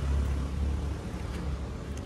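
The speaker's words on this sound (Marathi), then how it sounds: "रोहन गाडी काढतोय" Yamaha Fascino scooter being wheeled out and started outside a hotel in Calangute, Goa, a low steady engine rumble close by with faint road noise around it, no talk.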